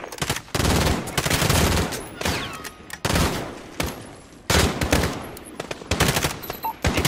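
Dense automatic gunfire and explosions from a Call of Duty: Modern Warfare battle fill the whole stretch, loud and continuous with sharp bursts and brief dips.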